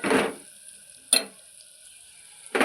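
Meal maker (soya chunk) curry sizzles in a pan and is stirred in three distinct bursts, loud close scraping sizzles separated by quieter gaps, with no voices.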